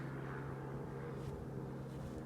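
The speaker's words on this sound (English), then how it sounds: "There's a helicopter." A faint, distant helicopter drone hums steadily overhead in the background at an Arctic site beside a glacial river, low and continuous, with no voices.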